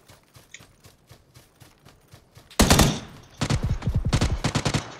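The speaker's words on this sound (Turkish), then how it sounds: "Bilerek sıkıyorum bu arada." Gunfire in the video game PUBG, with faint distant shots at first, then a sudden loud close burst and a rapid string of automatic fire near the end.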